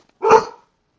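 A single dog bark, close and fairly loud, one short sharp burst with no talking over it.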